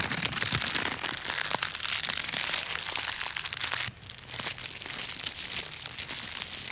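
Plastic is crinkled and crushed as a foley texture, giving dense close-up crackling that pauses briefly midway and then resumes more sparsely.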